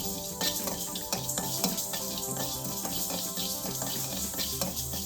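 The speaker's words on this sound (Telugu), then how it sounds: "ఫస్ట్ పాన్ పెట్టి కొంచెం మెంతులు వేసి ఫ్రై చేసుకోవాలండి" Fenugreek seeds and mustard fry in a pan for Andhra raw mango pachadi, a close, steady crackle with quick rhythmic ticks and sizzling throughout.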